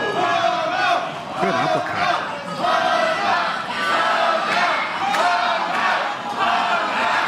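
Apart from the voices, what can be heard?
crowd cheering at a live wrestling match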